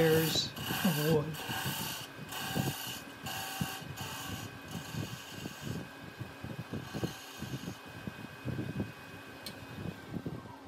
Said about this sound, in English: here I'm just using the point of the skew to peel back the layers of wood.